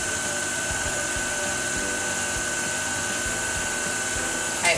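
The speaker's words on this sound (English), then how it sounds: "We're going to start it off by stirring it or low speed." A stand mixer stirs pizza dough at low speed, giving a steady, continuous motor whir and hum that runs unbroken at moderate volume, with no voices.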